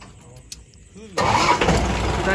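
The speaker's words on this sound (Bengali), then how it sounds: "ইঞ্জিন স্টার্ট ফার্ট করে যেমন দেখিয়ে দিই" A new car's engine cranks and fires up after a quiet moment with a faint click, then settles into a steady, fairly loud running hum close by.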